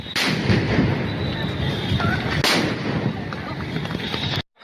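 Sound grenades go off at Dhanmondi 32 in Dhaka, with two sharp, loud blasts a couple of seconds apart over a dense, continuous roar of crowd and street noise.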